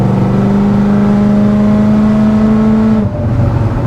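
A 2012 Corvette Grand Sport 4LT with a Lingenfelter package accelerating on a highway. The engine gives a loud, sustained drone that climbs steadily in pitch for about three seconds, then drops off abruptly as the throttle is released.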